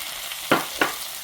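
Spicy Korean stir-fried pork sizzles in a pan after a splash of water, a steady frying hiss with two sharp bursts of sizzle close together.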